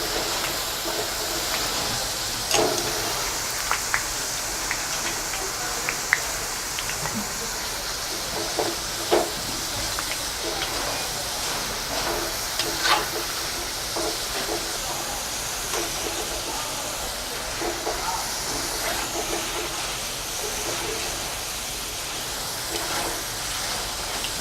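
Homemade potato wafers frying in hot oil, a continuous bubbling hiss with scattered crackles and small pops, steady and close for the whole stretch.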